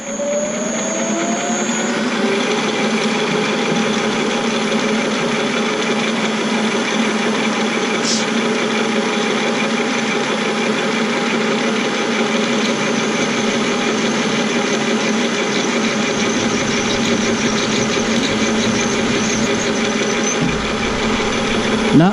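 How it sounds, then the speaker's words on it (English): A Hardinge lathe runs at 500 RPM, machining a 36-tooth index wheel: a steady, loud mechanical hum with whining tones and faint cutting chatter, continuous for the whole stretch without talk. "I'm going to go ahead and fire this up. I'm turning it 500 RPM"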